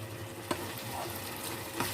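Tomatoes are stirred into minced meat frying in a pan for a dhaba-style keema, with a steady sizzle and two soft spoon knocks against the pan.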